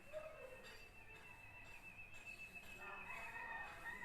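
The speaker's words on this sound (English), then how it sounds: "These are the birds" Birds calling outdoors in Bali, a steady thin whistling tone with scattered chirps and crowing-like calls, moderately faint and continuous, no speech.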